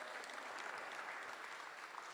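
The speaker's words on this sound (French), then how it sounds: "Félicitations, applaudissements, s'il vous plaît." Audience applause at a sailing trophy presentation in Lausanne, a steady wash of many hands clapping at moderate volume from start to finish.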